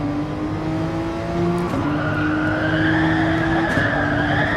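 Porsche 911 race cars in GT Sport squeal their tyres through a corner. The screech is loud and sustained, sliding in pitch over roaring engines, with no voices.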